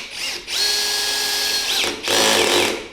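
A cordless drill set to low speed drives a screw in a DIY demonstration, whirring steadily for over a second, pausing briefly, then starting again; close, loud, with no talking.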